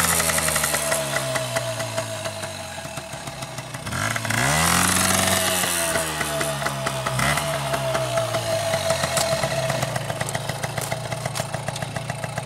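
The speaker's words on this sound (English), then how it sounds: "now we're gonna drive this moped" A moped engine runs close up, with uneven revs that drop, then surge and wind down in a rising and falling sweep, over a steady buzzing, rattling idle throughout.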